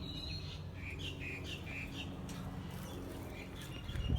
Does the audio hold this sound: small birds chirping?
yes